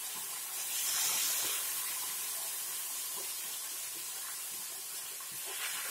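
Fish frying in very hot salted oil, a loud continuous hissing spatter that swells early and then holds steady, close to the pan with no voices over it.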